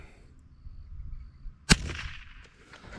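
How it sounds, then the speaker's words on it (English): A single sharp shot from a Marlin 39A rifle fired at a steel target outdoors, one loud crack standing out against quiet background, followed by a short fading ring. "Just shooting at some steel over there."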